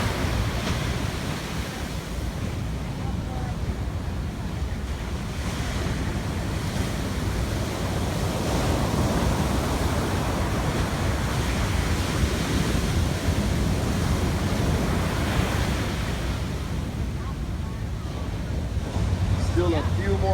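Ocean surf at Sunset Beach on Oahu's North Shore during a surf contest: a steady, broad roar of breaking waves mixed with wind buffeting the microphone, continuous and fairly loud throughout.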